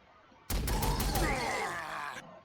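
Bolter and battle cannon fire in the Warhammer 40,000: Sanctus Reach strategy game, Astra Militarum side: a sudden loud burst of rapid shots with a heavy boom, then a sustained rumbling roar that fades after about two seconds.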